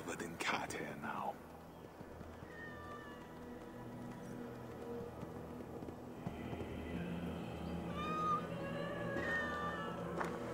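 Several cats meow in Assassin's Creed Valhalla, high-pitched mews appearing across the clip, clustering toward the end, over a steady game ambience with voices talking.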